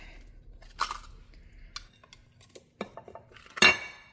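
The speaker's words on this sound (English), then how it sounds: "I have this oven safe, microwave safe dish." An oven-safe, microwave-safe dish is handled in a kitchen, giving a few scattered knocks and clinks with a sharper, louder clatter near the end and quiet in between.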